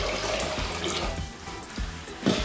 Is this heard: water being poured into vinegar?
yes